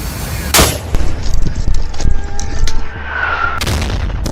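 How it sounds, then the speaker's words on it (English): A mortar round bursts just a few feet from soldiers in a frontline trench, a sharp loud blast followed by rumbling debris and further crackling detonations and gunfire, with a second heavy impact near the end. "The mortar explodes nearby"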